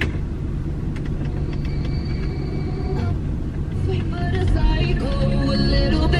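Steady low rumble of a car interior while driving, with road noise holding constant and a faint high whine briefly present before the sound swells slightly toward the end.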